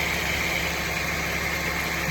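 A Mazda Verisa engine idling with the AC compressor clutch engaged, a steady close mechanical hum and drone with a constant whirring tone, no talk.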